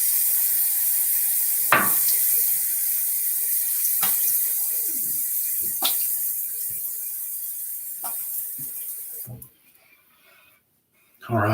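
Water running from a tap into a sink while a face is wetted for a wet shave, a steady close rush with a few clunks and handling knocks, then the flow cuts off near the end.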